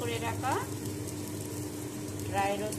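Rice frying in ghee in a pan for chicken polao gives a steady, soft sizzle close by, with a voice briefly heard over it at the start and near the end.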